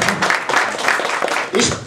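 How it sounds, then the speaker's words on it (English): A conference audience at an evening party in Moscow gives brief, loud applause, with the clapping swelling and fading in quick bursts over just under two seconds. "Give him a round of applause."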